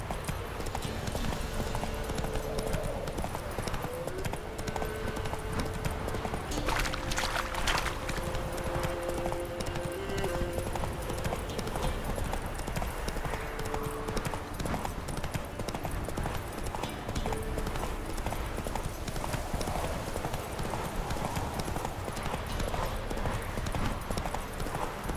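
Geralt's horse Roach galloping in The Witcher 3, a fast, continuous drumming of hoofbeats that stays close and steady throughout, with occasional faint game sounds and tones beneath.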